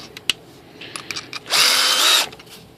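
A power drill bores into a part of a Tian Sheng Airbus A380 model airplane's nose gear, a sharp whirring burst of about half a second following scattered light clicks and handling noises, close and alone.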